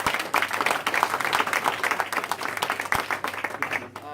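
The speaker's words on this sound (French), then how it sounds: "Nous applaudissons les invités." Sustained applause from a crowd, dense steady clapping filling the space, with some voices mixed in underneath.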